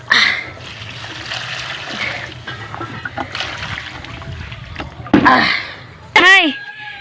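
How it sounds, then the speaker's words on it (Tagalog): Water trickles and splashes as it is poured into a pot for cooking puso rice in the Masbate countryside, Philippines, with a steady pour and short louder bursts as voices talk nearby. "Dagdagan natin ng tubig."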